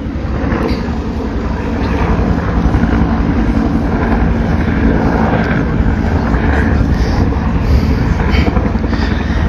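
Helicopters approach along a roadway beside the San Lorenzo football field, a steady, loud rotor rumble building over constant wind buffeting on the microphone.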